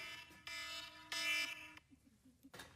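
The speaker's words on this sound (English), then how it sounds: "My alarm." A kitchen alarm goes off in short, loud, harsh buzzing bursts with pauses between them, followed by a few fainter beeps and clatter.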